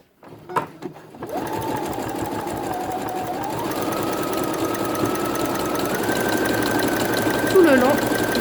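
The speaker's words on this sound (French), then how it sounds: "Et nous allons faire la couture" Sewing machine stitching felt pieces for a quiet book page, running steadily close by after a few soft handling knocks, its motor hum rising in pitch partway through as the stitching speeds up.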